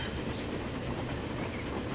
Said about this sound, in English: One of our express trains heading in.